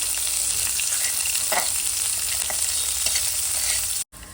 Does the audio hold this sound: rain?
no